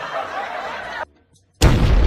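A homemade Diwali firecracker goes off with a sudden loud, close bang after a moment of silence, following a stretch of noisy background sound.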